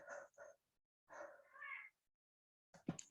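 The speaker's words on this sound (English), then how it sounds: "did you know that the boy cat was up here, Rachel?" A male cat meowing indoors, several separate close mews in a loose series with short silences between, the last one sharper and more strained.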